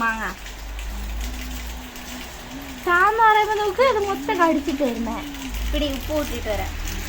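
Rain falls steadily on surfaces at close range, a constant wash of drops under a person speaking in a relaxed voice, with a louder stretch of talk in the middle.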